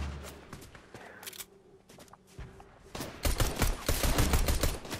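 An automatic pistol firing in Fortnite: a few scattered shots give way to rapid, loud bursts of continuous gunfire in the second half.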